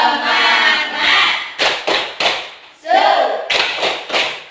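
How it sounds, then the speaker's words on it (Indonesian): Schoolchildren in a classroom perform a rhythmic spirit clap together, voices chanting first, then groups of sharp synchronized claps in short bursts separated by brief pauses, with chanting between. "Ayo, 1, 2, 3. Tepuk semangat."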